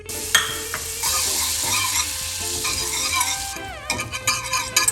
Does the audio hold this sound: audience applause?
no